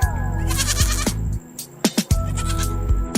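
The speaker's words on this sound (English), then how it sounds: "G for goat. Goat." A goat bleats several times in quick wavering cries over a busy musical backing, loud and close.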